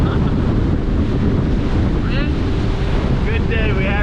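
Strong wind at sea off Costa Rica on a fishing trip, a loud steady roar buffeting the microphone over rushing waves and boat noise, with faint voices briefly audible underneath.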